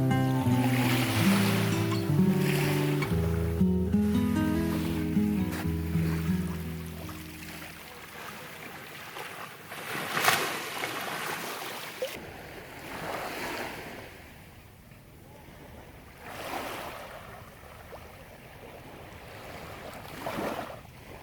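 Waves wash onto a beach at Havelock Island, with wind buffeting the microphone; a low rumbling passage gives way to repeated surges of surf breaking and receding.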